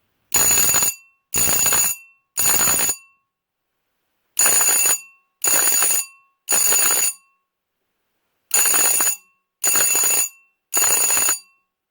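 A painted-gong Edwards Adaptabel no. 340 4-inch alarm bell rings loud and close in code 3 pattern: three groups of three sharp, evenly spaced bursts separated by short pauses, with no talking.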